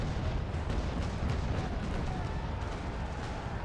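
Ship cannons fire a rumbling broadside in the naval battle game Naval Action, a dense, continuous series of deep booms close and loud with no talk over them.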